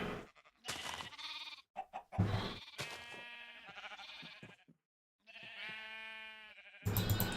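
Sheep in a Minecraft modpack game bleat in several loud, separate calls. Each is a wavering, nasal cry with short silences between them.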